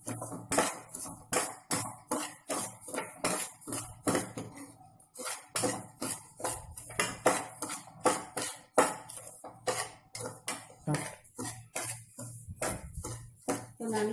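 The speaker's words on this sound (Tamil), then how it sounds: "இதில் ரவாவை ரோஸ்ட் பண்ணிக்கலாம்" Semolina being dry-roasted in a pan over a medium flame for rava laddoo, a steady run of rhythmic scraping strokes from a spoon or spatula against the metal, close and regular throughout.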